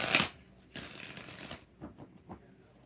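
Tarot cards are shuffled at close range: a sharp riffle, a longer rustling pass, then several short soft taps as the deck is squared, with no talking.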